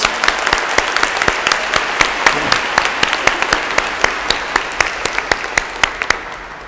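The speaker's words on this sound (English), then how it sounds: "Oh, give him a round of applause." An audience in church breaks into a round of applause during a homily, dense crowd clapping with distinct sharp claps standing out in a steady rhythm.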